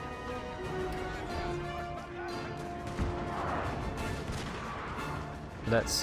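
Enemy artillery fire in the Napoleon: Total War Prussia campaign, a steady din of distant booming guns and battlefield clatter, with a sharper crash near the end and faint talk underneath.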